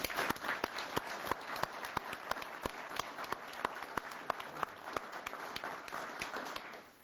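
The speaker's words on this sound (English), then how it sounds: "Let's give them a round of applause." A room at a press conference applauds state employees for their long hours of work on code. Scattered, fairly quiet clapping carries a few sharp individual claps, stays steady, then fades out at the very end.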